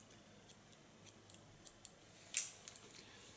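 Scissors snip through strong hair during an ultra-short haircut, a series of faint, crisp clicks spaced irregularly about every half second, one sharper cut standing out, close up over quiet room noise with no talking.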